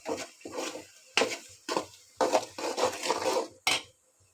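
Tomatoes and masala are sautéed in a pot with a spoon scraping and rubbing in repeated short strokes, a close rhythmic stirring with brief pauses between passes.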